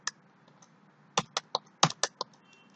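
Sporadic keystrokes on a computer keyboard while a C# database query is typed, a few isolated taps followed by a quicker cluster of clicks, close and fairly quiet with no talking.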